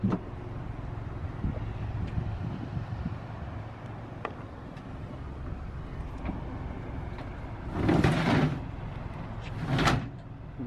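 A retractable tonneau cover on a Chevy Colorado truck bed slides in two rushing, rumbling strokes near the end, after a quieter stretch of faint background clicks.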